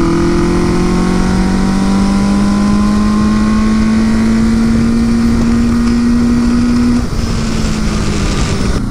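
A Suzuki GS850 scrambler motorcycle engine warming up at idle, a loud close drone whose pitch climbs slowly and evenly, then settles and roughens near the end.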